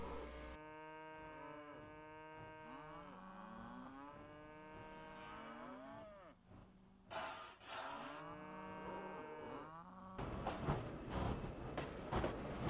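Narrow gauge D&RGW train from the Trainz 2009 game pulling into Osier station on a simulated Colorado mountain line, a steady rumble with a hum and melodic whistle-like tones sweeping through, then a louder clattering burst near the end.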